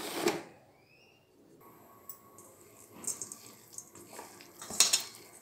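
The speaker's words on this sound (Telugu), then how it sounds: "ఇప్పుడు వీటన్నిటిని బాగా కలిపేసేద్దాం." Masala wada batter being mixed by hand with salt, chilli powder and cumin in a bowl, giving soft scattered scraping and clinking sounds that are quiet and close, with no talking.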